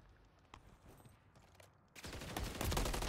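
Gunfire rattles through a ranked online shooter match, with a few faint, sparse shots at first, then a sudden loud burst of rapid, sustained firing close by.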